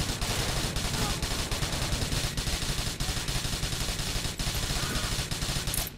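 Rapid gunfire from GTA IV rattles on continuously as dense, sharp bursts of shots, loud and close, with a steady rhythm of repeated cracks throughout.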